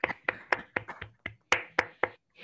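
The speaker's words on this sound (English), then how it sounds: "Huge round of applause for Josh." Sparse claps from a small group greeting a speaker after a skills training session: a few separate sharp hand claps in an irregular rhythm, close and distinct, without sustained applause.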